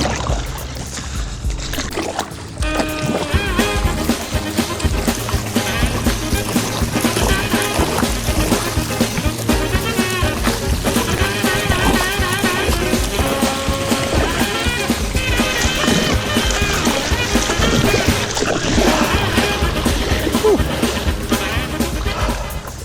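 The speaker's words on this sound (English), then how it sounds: "Okay, now we're gonna paddle fast, or at least what I can do with this board" Paddle strokes in water beside a Sea Gods Sol Flyer paddle board paddled quickly, a continuous run of splashes and sloshing under steady background sound.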